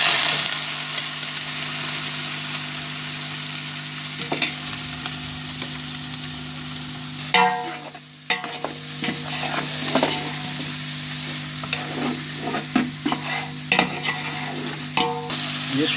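Beef sizzles steadily in a hot pot while being cooked for beef yakhni pulao, then a spoon scrapes and clatters as it is stirred in irregular bursts.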